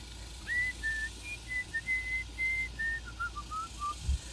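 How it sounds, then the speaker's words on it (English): A thin, high whistled tune through the teeth, a string of short and held notes, close up and otherwise quiet. "When I was really young, I learned how to whistle through my teeth."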